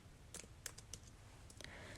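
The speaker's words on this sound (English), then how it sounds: "I'm typing so slow." Faint typing on a computer keyboard gives a few quiet, irregular key clicks spread over two seconds against a soft background hiss.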